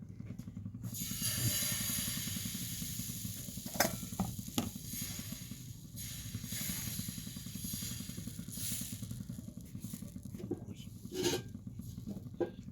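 Patishapta batter for kheer-filled pancakes sizzles softly in an oil-brushed pan, a quiet, steady hiss with occasional light clicks and scrapes.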